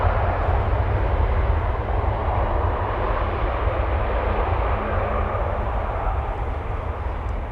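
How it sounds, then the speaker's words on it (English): A KLM Airbus A321neo passes at Amsterdam Schiphol Airport, heard as a steady, distant low roar of jet engines that stays even and continuous throughout. "Saw a brief glimpse of an A321neo from KLM coming this way"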